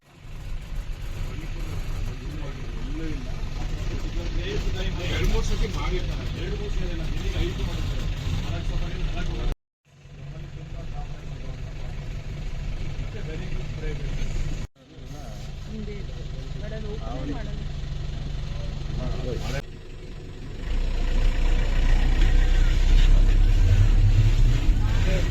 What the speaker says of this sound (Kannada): ಈ ಬಸ್ ಅವರು ಹೋಗಿ ರಿಟರ್ನ್ ಬರ್ತಾ ಇದ್ದಾರೆ